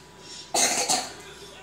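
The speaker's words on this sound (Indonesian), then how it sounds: "Coba batuk" A child sick with a cold gives one short, wet cough, close and fairly loud, in a quiet room after a moment of silence.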